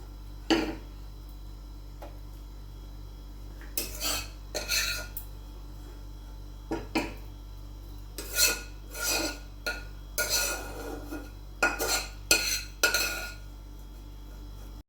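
Bottle gourd and raisins going into milk in a cooking pot bring a scattered series of spoon scrapes and metallic clinks against the pot, sharp and close over a low steady hum, with no talk.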